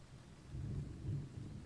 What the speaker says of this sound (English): Oh, I've got a thunderstorm as well.